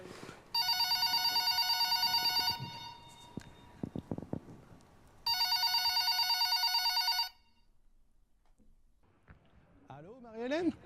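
A telephone in a TV studio rings in two long electronic bursts separated by a pause, with light handling noise between them and a voice rising at the end.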